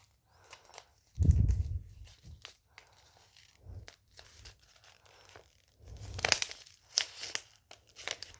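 A heart-patterned chocolate-themed package is torn open by hand, with a sharp tearing burst near the start and intermittent crinkling and rustling of wrapper plastic, close and fairly quiet, with no talk.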